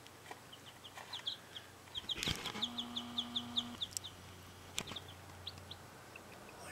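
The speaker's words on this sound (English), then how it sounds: "A lot of little chicks." Little chicks in a barn peep in a rapid series of thin, high chirps, with a few louder knocks and a low steady hum underneath.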